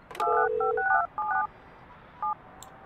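Telephone dialing tones play as a phone line is installed in the Project Highrise building-management video game: a quick run of clean beeping keypad tones, then a single short beep after a pause, with no talk.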